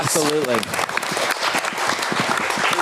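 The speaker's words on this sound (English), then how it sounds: "give yourselves a round of applause" A comic con crowd at a voice actor panel breaks into a round of applause, a broad wash of clapping that fills the room, with a voice speaking briefly at the start.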